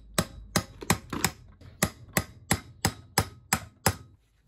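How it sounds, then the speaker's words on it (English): A hammer taps on the burnt rotor of a Henry hoover motor, about a dozen sharp, close metallic knocks in a fairly steady rhythm, loud and alone. "We can try and tappy tap it off."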